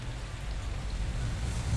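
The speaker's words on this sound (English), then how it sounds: "the rain came, not in heavy drops, but driving in sheets of thin spray" Rain drives across an open moor in sheets of thin spray, a steady, dense hiss that holds even and unbroken throughout, with no voices or other sounds.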